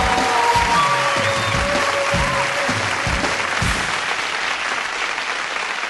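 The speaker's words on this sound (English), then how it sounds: "I expect a big Tool Time round of applause for Robert... the Human Hatchet Cho!" Studio audience on a sitcom's home-improvement TV show set applauds a guest, steady dense clapping with scattered whoops and cheers, loud and continuous for several seconds with no talk.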